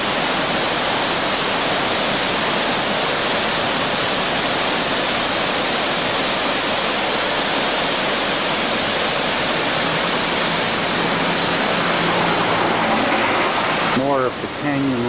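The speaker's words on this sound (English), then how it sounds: "This is a waterfall right here in the canyon on the way to" A waterfall in a canyon on the road to Snow Basin near Ogden roars as a loud, continuous rush of falling water, filling the whole stretch, with a brief change in the sound near the end.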